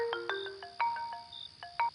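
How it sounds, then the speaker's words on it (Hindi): A mobile phone plays a bright electronic ringtone melody of quick, chiming notes at moderate volume. No one speaks. "किसका फोन आ गया?"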